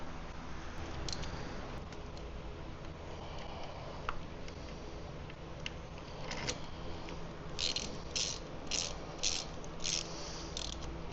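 Ratchet threading a bolt into a Mini Cooper F56 engine mount, faint scattered clicks and scraping, then a quick run of rapid ratcheting bursts near the end, close and quiet.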